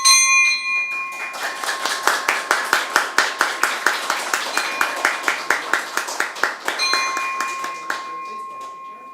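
A bell is rung repeatedly at a stock exchange ETF listing ceremony, a fast steady run of sharp metallic strikes lasting several seconds, with ringing tones at the start and end and a crowd's murmur underneath.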